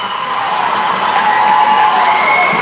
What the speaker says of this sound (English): As you can hear that Montana has the crowd here in attendance today